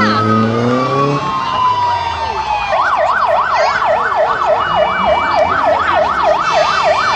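A loud wailing fire engine siren sweeps rapidly up and down in steady cycles, preceded by a descending tone and layered with vehicle noise and distant voices, during a street parade in Tarnowskie Góry.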